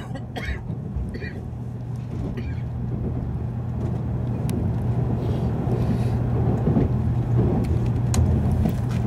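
A Nozomi Shinkansen bullet train pulling out of Shinagawa station, heard from inside a Green Car as a steady low rumble and hum that slowly builds, with faint brief chimes and voices near the start.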